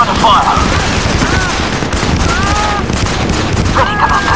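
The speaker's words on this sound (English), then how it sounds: "I'm under fire." Sustained gunfire in the SOCOM 4 U.S. Navy SEALs shooter game on PS3, a dense continuous rattle of shots at loud volume, with brief radio-style voices cutting in between.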